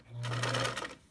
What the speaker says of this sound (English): what I'm going to do is sew the bottom piece on, which is the big border